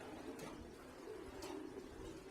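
Racing pigeons cooing in a loft, a soft low murmuring coo that runs steadily underneath with a couple of brief sharper bird calls, close and moderately quiet, with no talking.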